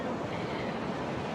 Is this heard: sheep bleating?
no